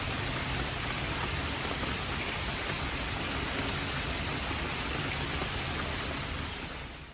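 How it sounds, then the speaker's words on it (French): Steady, heavy rain pours down into puddles without pause, a dense wash of splashing drops close by, fading slightly at the very end. "Il y a la pluie dans les flaques"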